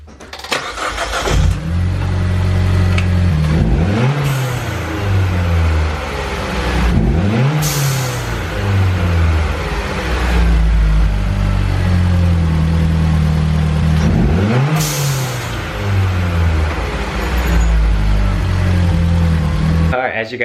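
A Mitsubishi Evo fitted with a GFB Respons blow-off valve starts up and is revved several times, loud and close, each rise in pitch followed by a sharp venting whoosh as the throttle closes, with a voice speaking over parts of it.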